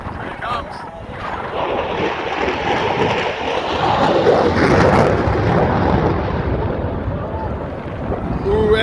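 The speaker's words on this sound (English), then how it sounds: "This is the F-22 Raptor. The F-22. Oh, here it comes again. Afterburner is on." An F-22 Raptor fighter jet with afterburner on roars past at an air show, a broad rushing thunder that swells to a peak midway and slowly fades, heavy and continuous throughout.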